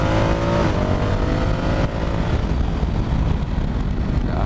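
A Honda CRF1000 Africa Twin DCT motorcycle in sport mode revs hard and holds its gears, a loud, continuous engine roar that climbs and shifts pitch close by, with heavy wind noise.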